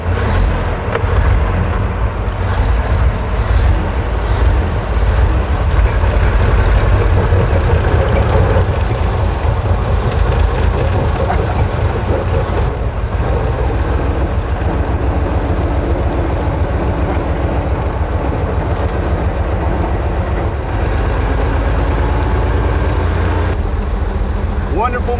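A 1914 Mitchell car engine idles with a steady low rumble throughout, close and continuous, while people talk over it.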